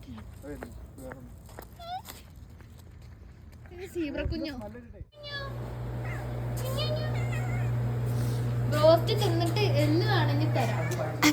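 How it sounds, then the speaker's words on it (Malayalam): Several cats meow in short, scattered cries outdoors on a cold night, mixed in with people talking and a steady low hum that begins midway. "ഇവിടെ ഇഷ്ടം പോലെ പൂച്ചകളുണ്ട് കേട്ടോ ഗൈസ്."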